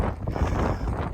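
Steady wind buffeting the microphone with a low, rumbling roar, gusting unevenly throughout.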